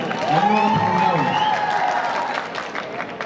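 A crowd in Kozhikode applauds and cheers for actor Dileep, a loud roar of clapping and shouts with one voice calling out near the start before the noise gradually eases.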